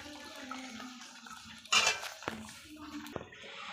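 A basin being rinsed with water beside a wood fire while cooking fish: quiet splashing and sloshing with a burst of pouring and a few clinks of the metal basin, no speech.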